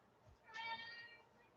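A pet cat gives a single drawn-out meow, fairly close and clear, over a quiet room.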